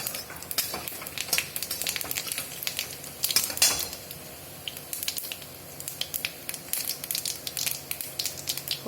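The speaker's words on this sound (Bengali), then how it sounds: "এরপর এর মধ্যে একটু জিরা ফোড়ন দিয়ে দেব।" Cumin seeds are tempered in hot oil, crackling and spitting in sharp bursts over a steady sizzle, with occasional clinks of a utensil against the pan.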